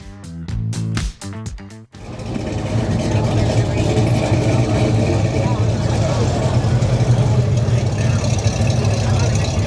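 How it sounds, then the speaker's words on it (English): A custom truck's exhaust rumbles as it passes by at a street car show, a loud, continuous low engine drone that follows a brief burst of music and people talking. "It's so cool to see them coming by here, and we can hear the sound of the exhaust."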